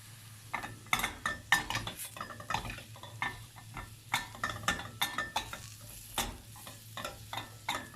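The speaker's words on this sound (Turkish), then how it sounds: "Karıştır sen." A spoon stirs creamy sausage soup in a home kitchen pot, giving a steady series of close scraping knocks and clinks against the metal with a soft sizzle beneath.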